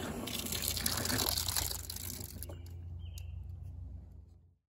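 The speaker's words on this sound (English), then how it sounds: "I've even got a custom hose bib with running water already." Water gushes loudly from a hose bib, then the flow cuts back to a quieter trickle before fading out.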